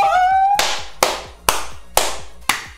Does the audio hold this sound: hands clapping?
yes